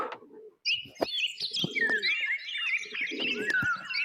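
A domestic pigeon broods two eggs in its nest while bright chirping bird calls sound close by, with soft low cooing notes in short bursts between them.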